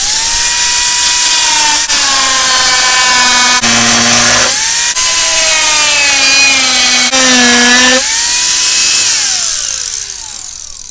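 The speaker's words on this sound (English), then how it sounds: "I'm gonna use the grinder to speed up the process to do the top and the bottom." Grinder cutting a plastic Toyota Corolla air intake duct diffuser, a loud continuous high whine with shifting pitch that bogs and recovers several times as the disc bites, then winds down at the end, no talk.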